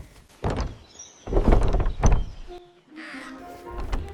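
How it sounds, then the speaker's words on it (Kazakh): A wolf in an animated children's fairy tale knocks on a house door: a few heavy, hollow thumps close together in the first two seconds, followed by a quieter tonal sound. "Қасқыр есікті соғып"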